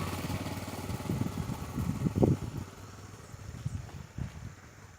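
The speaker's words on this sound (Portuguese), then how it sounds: "Olha a moto aí." A motorcycle passes on a street in Piabeta, Rio de Janeiro, its engine buzz swelling to a peak and fading again at moderate distance.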